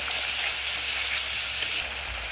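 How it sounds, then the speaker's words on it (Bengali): Spice paste frying in a pan with a splash of water added, producing a dense continuous hiss and sizzle that holds steady throughout, close and fairly loud. "জল দিয়ে মশলাটাকে কষিয়ে নেব।"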